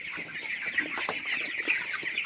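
Chickens at a poultry farm cluck continuously, several birds close by, with busy overlapping calls and short sharp notes across the whole stretch.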